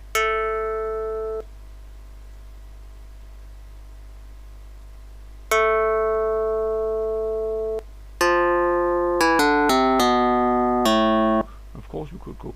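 Vibed string instrument emulator sounding plucked synthetic string notes from a hand-drawn string shape, long sustained tones at first, then a quicker run of short plucked notes, with a brief voice at the end.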